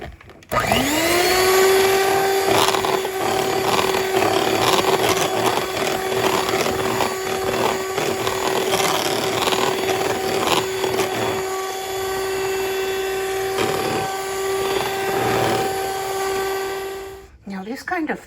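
Electric mixer beating milk with whipped topping mix, a loud steady motor whine that holds for about seventeen seconds before cutting off, with a voice talking faintly underneath.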